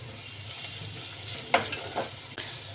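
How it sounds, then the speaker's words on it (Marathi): Spices with kitchen king masala sizzling in a pan for a green pea curry, with a steady hiss and a few sharp spatula scrapes near the end. "ते व्यवस्थित मसाले परतून घेऊया"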